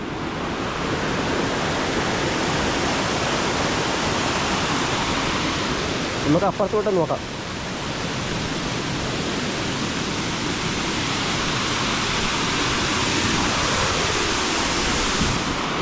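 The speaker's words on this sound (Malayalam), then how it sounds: "ഇതാണ് കേട്ടോ വെള്ളച്ചാട്ടം." The Oliyaruk (Erappu) waterfall roars as a loud, steady, close rush of falling water that fills the whole stretch. A person speaks briefly over it midway.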